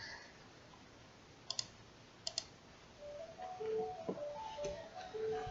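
Key presses on a GK61 mechanical keyboard fitted with Gateron Yellow switches: a few isolated sharp clicks, then a denser run of quieter taps over low room hum, moderately close.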